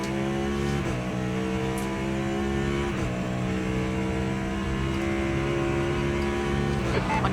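A Cadillac hypercar in the Le Mans Ultimate racing game drones loudly at sustained high revs, with a steady engine whine and brief shifts in pitch, and no voices over it.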